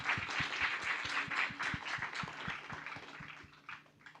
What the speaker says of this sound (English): can we please give Mr. James Carouso a round of applause?